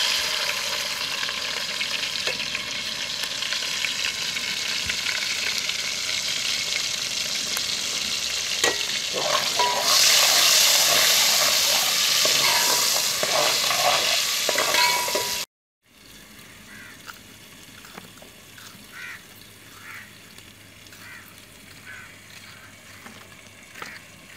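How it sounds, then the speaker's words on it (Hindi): Tomatoes and onions frying in a pan for an aloo shimla mirch dish, a loud close sizzle with occasional stirring scrapes, then a short gap before a quieter, softer sizzle continues. "अब इसमें टमाटर और प्याज डालेंगे।"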